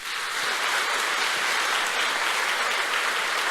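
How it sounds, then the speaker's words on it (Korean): A church audience applauds a teacher who stands up during a lecture, a sustained, dense wave of clapping that stays even and full from start to finish. "박수 한번 쳐주세요"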